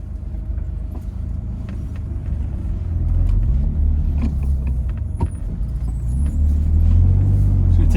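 A BMW E36 M3 fitted with a custom Z3 shift linkage on its first test drive, with a steady low engine rumble from inside the car that rises as it accelerates, and no talking.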